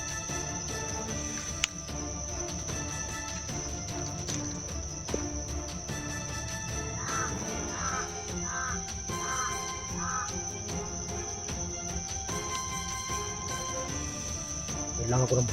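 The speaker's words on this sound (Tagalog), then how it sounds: "Malakas ang tinog sa uwak." Crows caw repeatedly at a moderate distance in the mountains over a dense, constant chorus of insects and a steady high-pitched drone.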